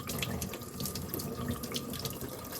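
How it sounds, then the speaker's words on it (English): Warm tap water runs steadily into a sink while jewelry is gently scrubbed with Dawn dish soap, a close, continuous splashing stream with no talking. "This nice warm water, Dawn dish soap, gentle scrubbing."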